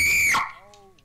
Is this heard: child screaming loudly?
yes